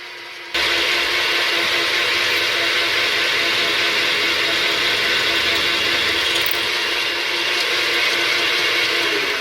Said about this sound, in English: I set the X and Y axis DROs to drill the holes for the 4 mounting screws and motor shaft.